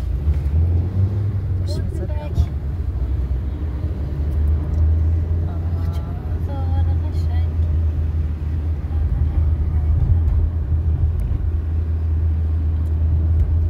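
City street traffic in Tehran's Mirdamad area rumbles along steadily, with low engine drone from nearby cars, a few passing vehicles and sporadic clanks, while people talk over it throughout.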